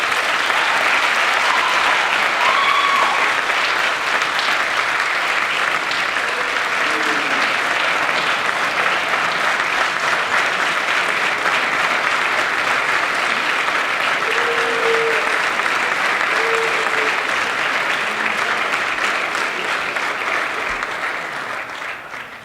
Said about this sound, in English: have everybody clap for them because they do a great job